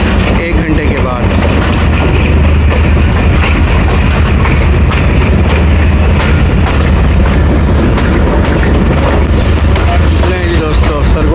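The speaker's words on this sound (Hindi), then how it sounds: "जी दोस्तों सरगोदा जंक्शन पहुंच गई है 2 डाउन शटल ट्रेन" Passenger train 2 Down Shuttle pulling into Sargodha Junction, loud rumbling and clattering of wheels and carriages close by, continuous and heavy, with voices mixed in.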